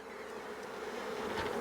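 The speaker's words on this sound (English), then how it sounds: "I got a lot of bees around me." Honey bees buzz thickly around a beekeeper working an overcrowded hive, a steady, close, continuous drone with no voices.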